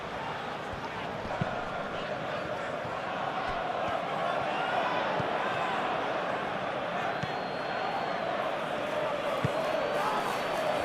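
Dense, steady stadium crowd noise fills a PES 21 football video game match between Bournemouth and Arsenal, a continuous roar with occasional thuds of the ball.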